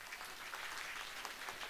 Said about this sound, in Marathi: मी सर्वांना विनंती करेल की सर्वांनी एकदा जोरदार टाळ्या वाजवायच्या.